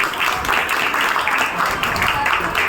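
An audience claps at a Jain cultural programme held on an exam day. The clapping is steady and dense, fairly close, and continues evenly for a few seconds.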